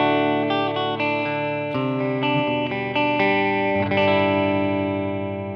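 An electric guitar plays a clean tone through an Ibanez DE-7 delay pedal: chords and single notes ring out in sequence, their echoing tails overlapping and slowly fading, with no talking.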